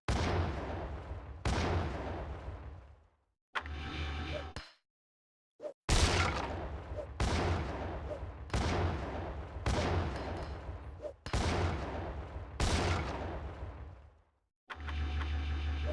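Bursts of gunfire and grenade blasts from GTA: Chinatown Wars, loud and close, coming in repeated dense volleys with short silent gaps between them and no voices over them.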